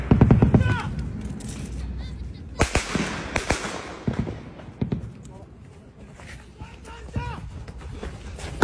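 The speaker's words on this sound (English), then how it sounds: "the Israeli tanks firing" Israeli tanks fire in a street with sharp booms and cracking bursts, loud and close, scattered irregularly through the stretch while voices shout and talk over the chaos.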